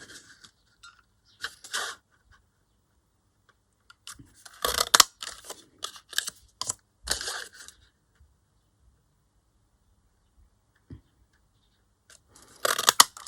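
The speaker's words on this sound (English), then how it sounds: "I want to use 2 circles. So I'm going to cut some out there." Scissors snipping through paper to cut out two circles for a craft project, bursts of crisp cuts in clusters separated by pauses, close and clear with no talking.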